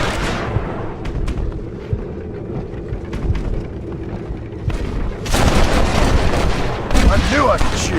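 Gunfire in the Red Dead Redemption video game: scattered sharp shots over a dense, rumbling battle din that grows louder and busier in the second half.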